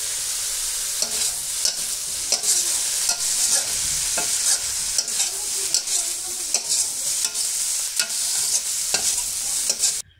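Bottle gourd leaves cooking with koi fish in a pan give off a steady, dense sizzle, punctuated by repeated close scraping strokes of stirring.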